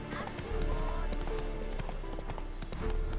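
Hoofbeats of Roach, a horse in The Witcher 3 video game, clip-clop steadily and close, with a brief whinny, over a continuous low rumble of background game ambience.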